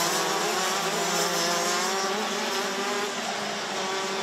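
DD2 and DD2 Masters racing karts at a British championship pre-final roar past in a dense, continuous engine drone, several machines close together with a steady high-pitched buzz throughout.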